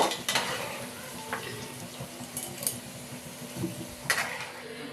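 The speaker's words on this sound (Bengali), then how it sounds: "এই আলুটা দেখুন আমার ভাজা হয়ে গেছে, লাল লাল করে ভেজে নিতে হবে।" Potatoes fry in oil in a pan as a soft, low sizzle under scattered metallic clinks and scrapes from a utensil. Several sharper taps stand out against the quiet, even hiss.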